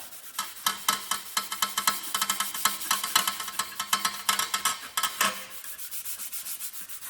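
Gritty paint being rubbed smooth by hand on a 1952 Columbia build, a close, steady run of rasping strokes in quick rhythm that slows and softens near the end.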